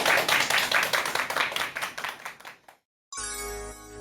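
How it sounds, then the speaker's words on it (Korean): A lecture audience in Korea applauds the start of a talk on family inheritance disputes, with dense, steady clapping that tapers off, a moment of silence, then music. "큰 박수 부탁드립니다."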